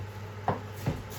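A knife slices through food on a board while cooking Bolognese, three quick separate cuts in a short quiet burst.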